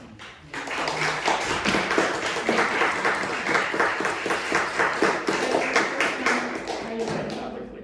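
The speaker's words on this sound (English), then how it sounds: "thank you for your applause" Audience applause at a book release celebration, a crowd clapping in a quick, uneven patter that swells and holds steady, with a voice speaking over the clapping.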